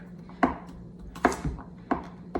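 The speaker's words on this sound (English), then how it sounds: "There we go, 3 cloves. And we're gonna mince it through." Garlic cloves minced with a knife on a cutting board: three distinct, fairly sharp chopping thuds spaced unevenly, a few smaller knocks between them, close by and alone.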